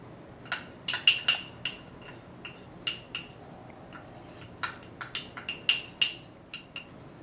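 A spoon clinks sharply against a bowl while mixing sugar, cornstarch and vanilla extract for cherry pie, with irregular bright taps in short bursts over a quiet background and no talking.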